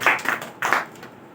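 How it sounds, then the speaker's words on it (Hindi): Congregation in a church service clapping hands together, a few sharp, close bursts of claps in an uneven rhythm over little more than a second. "आइए हम लोग ताली मारेंगे।"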